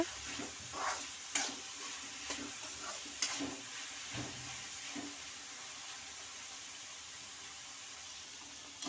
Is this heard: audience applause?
no